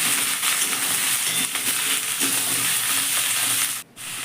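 Cut potatoes and Malabar spinach stalks fry in a pan for a spicy prawn curry, a continuous sizzle overlaid with scraping stirring sounds before a brief drop near the end.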